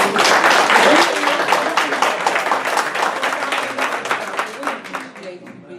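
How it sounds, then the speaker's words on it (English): A group at a social work talk on gangs and crews claps for invited guests, a burst of many hands that starts strong and gradually thins into scattered individual claps, with a voice briefly over it. "Let's clap for the guys"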